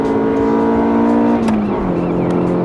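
A Mitsubishi Evo's engine drones loudly from inside the cabin, its pitch dropping at a gear change into third before pulling steadily again under acceleration.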